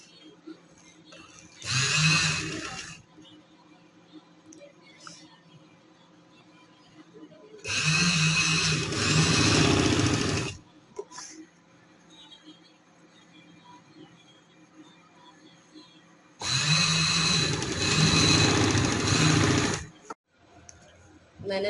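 A sewing machine stitches a folded side strip on a kameez in three bursts of steady whirring, each lasting about one to three seconds, separated by quiet pauses.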